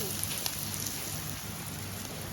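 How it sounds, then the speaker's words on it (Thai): Steady, dense heavy rain at a riverside campsite on the Khwae Noi River in Thailand hisses and patters continuously on surfaces, with no pauses and no voices. "ฝนมันตกแรงมาก"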